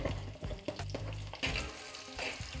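Spices with red chili and egg roast in a hot pan for Bihari-style egg curry, giving a continuous soft sizzle with scraping stirs and clatters of the spoon against the pan.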